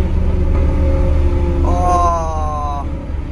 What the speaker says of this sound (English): So it's got the Zen Rage exhaust, this car. So if I change down a gear,